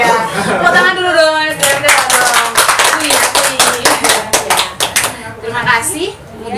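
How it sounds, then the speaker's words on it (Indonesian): A seminar crowd breaks into group applause after a game, a dense burst of clapping lasting several seconds with chatter and a voice around it, fading toward the end. "tepuk tangan dulu dong"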